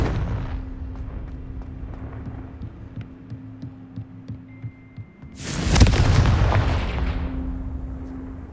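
A Confringo spell goes off in the Hogwarts Legacy video game as a sudden loud explosion about two-thirds through, following a low throbbing, heartbeat-like backdrop, then its rumbling roar fades away.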